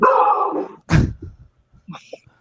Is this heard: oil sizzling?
no